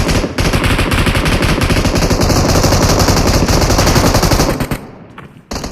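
Rapid, loud gunfire from a firefight in the battle royale video game PUBG, a dense continuous burst of shots lasting several seconds before cutting off abruptly, then one brief final burst.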